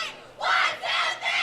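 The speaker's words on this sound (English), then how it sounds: "The girls emphatically cheer a lot." Girls at a high school game cheer and shout together in loud, sustained crowd bursts, two swells of yelling in quick succession.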